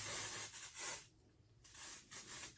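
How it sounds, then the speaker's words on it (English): Dry shampoo aerosol sprayed onto hair in short hissing bursts, close and fairly quiet, with brief pauses between sprays and no talking. "you have to do it, spray it not too close"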